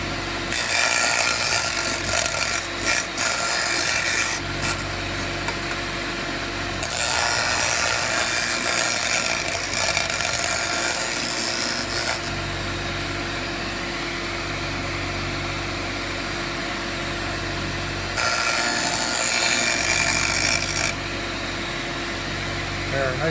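Hand tools, a rasp, working the edges of wooden griddle wind blockers, steady rough scraping strokes in repeated bursts with pauses, close up, under a steady background hum, with someone talking throughout.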